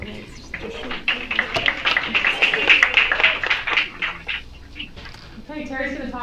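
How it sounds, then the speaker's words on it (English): Audience applause at a live Indivisible After Hours event, a dense burst of clapping that swells for a few seconds, peaks and then thins out toward the end. "we're going to do a round of applause for Carrie Lavely"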